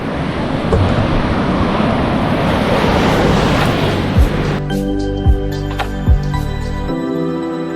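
Waves roar and wash continuously at Visakhapatnam beach, with gusty wind against the microphone, then the surf fades as a low engine drone and a few thumps take over.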